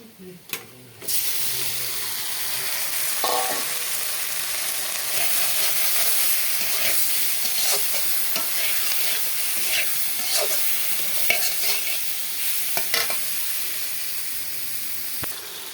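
Spiced fish frying in a pan with cumin and a little eggplant, giving a continuous hiss and sizzle with scattered stirring clinks and scrapes throughout.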